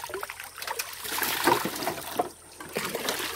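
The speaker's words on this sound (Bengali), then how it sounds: "বাসন মাজা হয়ে গেছে, এবার ধুয়ে নিচ্ছি সেগুলোকে ভালো করে।" Scrubbed dishes are rinsed under running water at a household sink, with a steady trickle and splashing close by and no talking.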